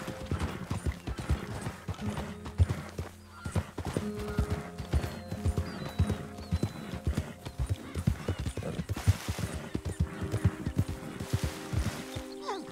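Horse hooves clip-clop steadily and fairly close in Red Dead Redemption 2, a continuous run of hoofbeats over game ambience with a brief whinny-like sound, and no talking.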